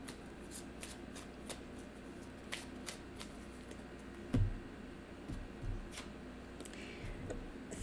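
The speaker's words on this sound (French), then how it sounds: "Je vais aller chercher maintenant une carte de temps." Tarot-style cards being shuffled and drawn nearby, with soft riffling and flicking that runs steadily throughout, a sharper slap of a card near the middle, and a few light taps.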